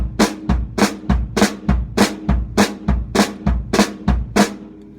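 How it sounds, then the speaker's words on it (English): A drum fill of alternating snare drum and bass drum hits repeats in a steady, even rhythm, with sharp loud strikes close up and no talking. "you can throw that snare drum, bass drum combination fill in, and it works pretty darn well"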